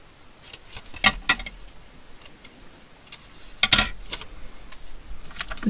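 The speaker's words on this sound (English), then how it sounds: "I need to cut the groove." Scissors snip a groove into paper for a junk journal, a few sharp close cuts in short bursts with quiet pauses between.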